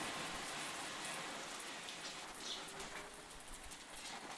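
Heavy rain pours down steadily, a dense, continuous hiss of drops on surfaces that stays close and fairly loud throughout, with no voices.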